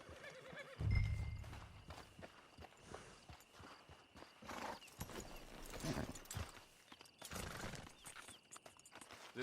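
A horse in the video game Red Dead Online whinnies loudly near the start, then its hooves clip-clop at a walk beneath a busy, rumbling game soundscape with scattered thuds.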